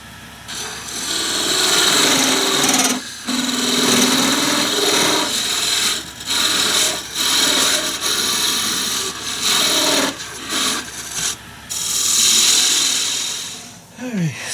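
A parting tool cuts screwdriver handles off on a wood lathe: a continuous scraping, rasping hiss with brief pauses as the cut stops and restarts, ending with a falling whine as the lathe spins down.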